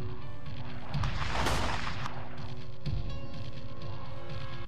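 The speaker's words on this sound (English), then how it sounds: "As she tries to run away, she trips one of the shotgun traps." A shotgun trap fires in the Saw video game, giving one loud blast that swells into a broad roaring burst near the start. A second sharp crack follows over a constant low hum, and no one speaks.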